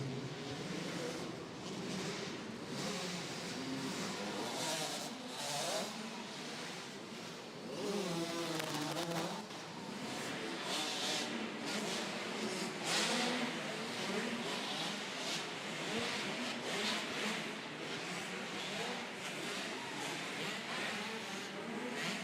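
Husqvarna motorcycles race around an indoor barn dirt track in a youth division, engines revving and droning continuously as bikes pass, with a crowd and arena echo behind.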